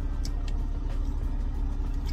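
Steady low engine rumble inside a car at idle or cruising, a constant hum filling the cabin with faint higher clicks and rustles over it, no talking.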